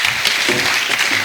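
A congregation at a church service breaks into brief, dense applause, a loud wash of clapping lasting just over a second.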